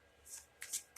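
A quick card shuffle: a few crisp, papery riffles in short bursts, close up with no talking.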